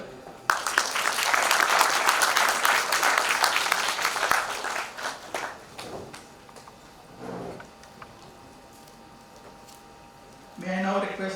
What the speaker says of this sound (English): I request all the audience and team members to applaud for them.